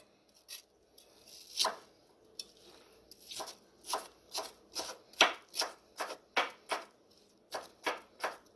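Knife chopping vegetables for coleslaw on a cutting board, a quiet, close series of crisp, evenly spaced strokes that speed up into a steady rhythm.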